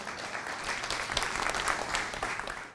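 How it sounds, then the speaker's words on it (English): Audience applause at a stage talk event welcoming a guest speaker, dense continuous clapping from a sizeable crowd, steady and fairly loud throughout with no talking. "A big round of applause, guys."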